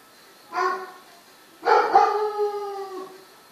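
A dog howls twice, a short cry followed by a longer drawn-out wail, close and clear against a quiet background.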